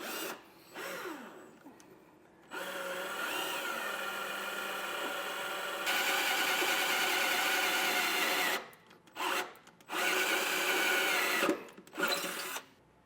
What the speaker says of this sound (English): we're going to use a 1/4 inch drill bit and drill out our 4 holes